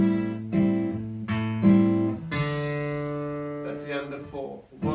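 Guitar strumming chords in Laufey's Falling Behind with an open string ringing through the chord changes, close and moderately loud with several rhythmic strums and no talking.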